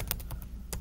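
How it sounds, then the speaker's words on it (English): A few sharp keystroke clicks on a Chromebook keyboard as a command is typed, spaced irregularly and heard close up over a low steady background hum. "I'm going to type sudo apt install"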